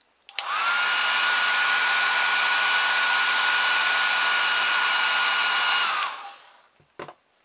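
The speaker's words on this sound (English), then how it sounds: "just use a hairdryer" A hair dryer blows hot air onto hot-glued parts salvaged from an old DVD drive to loosen the glue, a loud steady roar running unbroken for about six seconds before cutting off.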